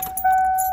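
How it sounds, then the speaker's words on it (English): Keys jangle at the ignition of a Ford Mustang Fox Body, followed by steady whining tones as the car's electrics come on, close and fairly loud, with no talking. "So when you start the car, all the gauges go up except for the temperature gauge."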